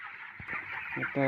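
Broiler chickens about twenty days old on a poultry farm cluck and call close by in short bursts, with some voice mixed in.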